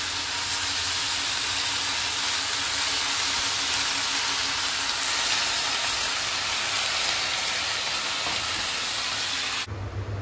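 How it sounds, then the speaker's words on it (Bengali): Beans, pointed gourd and other vegetables frying in a pan give a steady, loud hiss and sizzle that holds unbroken for about ten seconds, with no voices. "এই সবজিগুলো দিয়ে দেবো, সব ভালো করে ভাজবো।"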